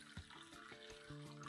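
Water pours from a tap into a bowl of yeast dough mixture, a brief, faint trickling and splashing at close range with no voices.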